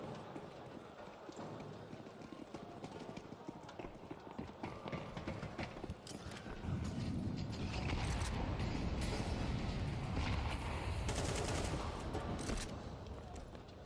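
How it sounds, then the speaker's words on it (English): Grenades bursting over and over in a Counter-Strike 2 match at an esports grand final, dense rattling pops and gunfire rolling on without a break, getting louder and heavier partway through. "The grenades are just popping here and there."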